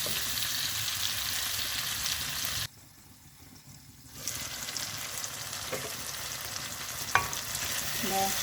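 Tomatoes sautéing in a pan for fish kuzhambu, a dense close sizzle that cuts out for a moment, then returns with stirring, a sharp clink of a utensil and a few scraping strokes; no voices.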